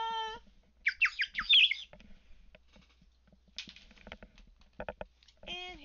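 Voices imitate a bird, giving bursts of high chirps and whistled tweets in short scattered calls, with talking in between.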